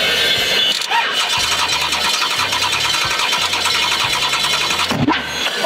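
Car engine being cranked and started after WD-40 is sprayed in, since the fuel injection is not working; loud, continuous engine roar throughout with a steady rhythmic throb and a brief break near the start, with a voice briefly heard.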